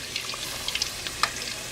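Beef empanadas fry in hot oil, a close, steady sizzle dotted with small crackles and pops.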